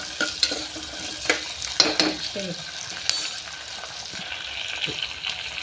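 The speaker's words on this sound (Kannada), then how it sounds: "ಸ್ವಲ್ಪ ಫ್ರೈ ಮಾಡ್ಕೊಂಡ್ರಿ ಹಿಂಗೆ" Mixed vegetables for veg pulao frying and being stirred in a pan, with a steady close sizzle and scattered utensil scrapes and clinks against the pan, no talking.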